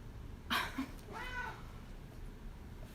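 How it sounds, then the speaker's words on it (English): A single faint cat meow, drawn out and slightly rising, in a quiet room with a soft click just before it. "Can you guys hear him, like, meowing in the background?"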